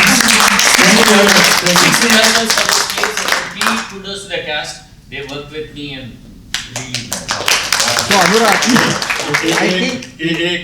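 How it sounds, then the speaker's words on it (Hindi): Clapping breaks out among the audience at a script reading session and fades midway, with voices talking over and after it. "मेरी तरफ से सभी तालियां लगा दीजिए।"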